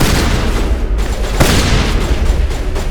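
Gunfire in a shootout in the video game Mass Effect 1, dense loud bursts and booms packed together with a sharp crack near the middle, continuous and close.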